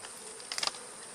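Honey bees around a beehive give off a faint, soft buzzing, with a brief, slightly louder flurry of wingbeats passing close for a moment.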